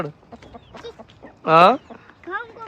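Hens cluck in short, scattered bursts, with one loud, squawking cackle rising up in the middle, close by.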